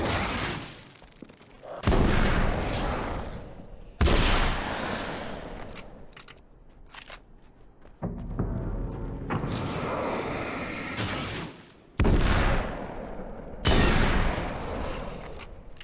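Weapon fire while testing a gun in the Alan Wake's American Nightmare game: several loud, close bursts of shots with abrupt starts and trailing decays, separated by quieter gaps holding mechanical clatter.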